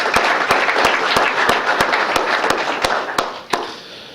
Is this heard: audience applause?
yes